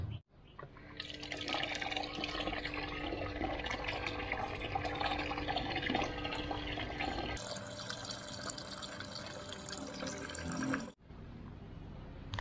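Liquid is poured and stirred as yellow clay, distemper and synthetic Fevicol are mixed into a solution: steady close sloshing and splashing runs almost nonstop, with a brief pause near the end before the swishing resumes.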